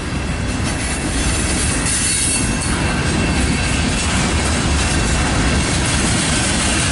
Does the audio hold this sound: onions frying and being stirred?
no